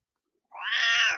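A cat lets out a single drawn-out meow, close and fairly loud, rising in after a moment of silence and holding steady before it fades.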